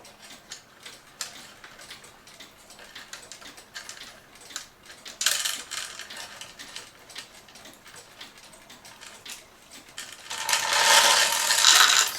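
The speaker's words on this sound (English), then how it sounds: "So I got a magnetic screwdriver to catch my chain to make this much easier" A magnetic screwdriver works inside an accordion to retrieve a chain, producing faint metallic ticks and ratcheting clicks close by. Scraping builds to a louder rattling flurry near the end, with no talking.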